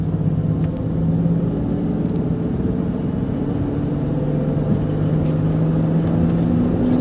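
A Jaguar X-Type driven in third gear on a rough road, with a steady loud engine and road rumble from inside the cabin and no talking.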